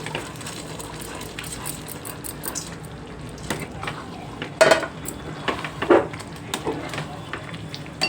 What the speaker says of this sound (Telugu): మనం దుంపలు వేయించి పెట్టుకున్నాం కదండి, ఇప్పుడు వేసేసుకోవాలండి ఈ కూరలో